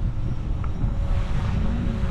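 Steady outdoor wind buffets the microphone with a continuous low rumble and whooshing noise, loud and unbroken, with no talking.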